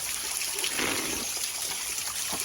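Spring water at Old Roar Gill in Hastings trickles and splashes steadily, a close, continuous bright babble with no voices.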